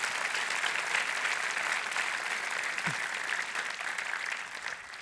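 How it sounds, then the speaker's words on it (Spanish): Steady, dense applause from a large church congregation during a worship service fills the whole stretch, loud and continuous without breaks. "Dale con fuerte ese aplauso a Dios."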